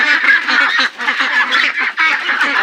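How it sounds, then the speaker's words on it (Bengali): Pekin ducks, Peking Star birds raised on a farm, quacking in a dense, continuous chorus of many overlapping calls, loud and close throughout with brief dips. "আপনারা দেখতেছেন আমাদের হাঁসগুলো মাশাআল্লাহ বড় হয়ে গেছে"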